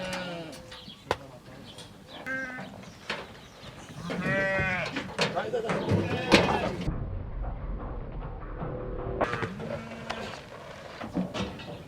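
Sheep bleat repeatedly nearby, several wavering calls overlapping, while people talk in the background amid farmyard noise.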